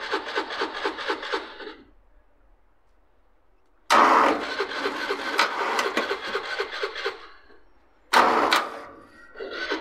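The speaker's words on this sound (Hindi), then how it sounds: "अब दोस्तों क्रैंकिंग करेंगे" A tractor's self starter motor cranks the engine under heavy load in three separate bursts, a short one, a longer one and another short one, each a loud, rapid pulsing whir with near silence in between.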